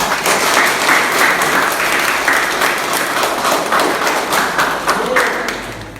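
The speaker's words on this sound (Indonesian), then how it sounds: "beri tepuk tangan" A crowd claps loudly and steadily for several seconds, a dense wash of applause that fades slightly at the end.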